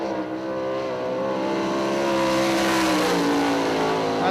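A sprint car screams past at Eldora Speedway in Rossburg, Ohio, its engine note loud and rising, then dropping slightly in pitch as it passes close by.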